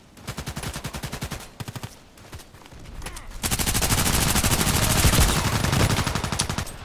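Gunfire in the shooter game Contract Wars: a rapid run of separate shots, then a dense, loud burst of sustained automatic fire close by, with no talk.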